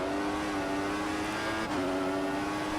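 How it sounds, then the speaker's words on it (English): A Force India Formula 1 car in the F1 2014 racing game at full power down a straight, its engine holding a loud, steady high-pitched drone with a brief shift in pitch partway through. "Going up to mix 3, using all the engine power available down these straights."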